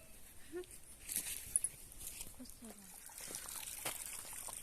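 Water runs and trickles steadily into a container, a soft continuous splashing with voices talking and a dog-like sound faintly in the background.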